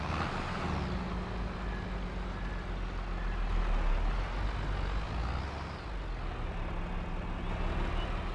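A farm vehicle in Farming Simulator 22 rolls toward a barn with a steady, loud engine drone and rumble that swells slightly midway, and no voices.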